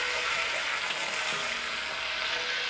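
Bay leaf, cinnamon, tsaoko, star anise, Sichuan peppercorns, dried chillies and Pixian bean paste fry in oil, giving a dense, even, close sizzle that holds steady throughout, with faint stirring and no talking.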